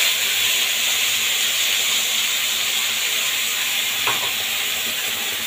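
Ground spice paste frying with white cumin in hot oil in a kadai, a loud continuous sizzle and hiss with a brief stirring scrape near the end.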